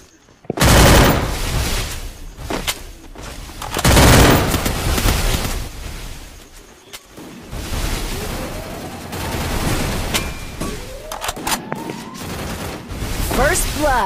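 Rapid gunfire from the Free Fire video game comes in heavy, loud bursts of repeated shots with short pauses between volleys. The firing is close and fills most of the stretch, and a voice talks over parts of it.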